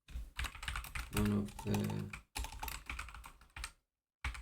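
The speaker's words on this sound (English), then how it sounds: "So let's type that down." Close, rapid clatter of computer keyboard typing in uneven bursts with short pauses, while a quiet voice speaks briefly partway through.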